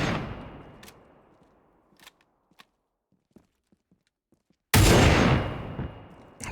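Short burst of gunfire from a custom weapon in the military shooter ArmA 3: a few sharp distant reports and faint clicks, then a loud, close burst with a long ringing tail.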